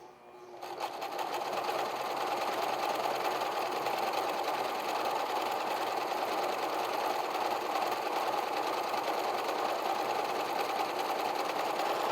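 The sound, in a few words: sewing machine sewing apron belts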